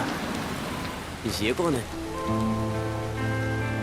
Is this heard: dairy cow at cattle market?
no